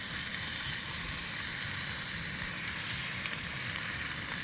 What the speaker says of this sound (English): So we're going to take them off and get the bacon on.